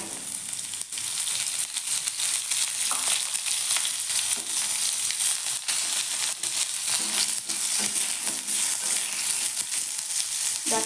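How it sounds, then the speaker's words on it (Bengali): Vegetable stalks sizzle and crackle continuously in a pan of hot oil while being gently stirred, with close, steady frying noise and scattered sharp pops throughout. "ডাঁটাটা একটু হালকা হাতে নাড়াচাড়া করে দিলাম।"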